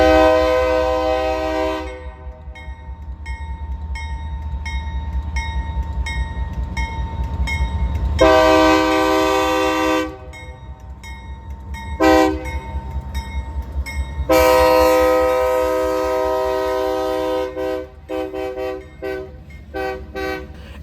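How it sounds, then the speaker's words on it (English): A mixed freight train hauled by a Union Pacific C45AH and a CSX ES44 rumbles past while the locomotive horn sounds in long and short blasts, loud and close, with steady wheel and engine noise beneath. "here's a Union Pacific C-45 SH trailing behind a CSX ES-44"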